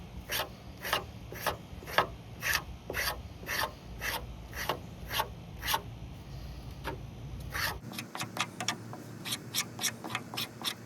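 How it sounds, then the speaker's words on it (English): A yucca leaf is scraped to pull out its fibers, producing a steady series of short, dry rasping strokes in an even rhythm, close and fairly quiet, with the stroke pattern quickening near the end. "Turn the leaf over and keep on scraping."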